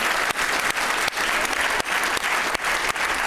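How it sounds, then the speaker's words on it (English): An audience gives a big round of applause for business panelists at a HubSpot customer event, dense continuous clapping with no voices over it. "So please, massive round of applause,"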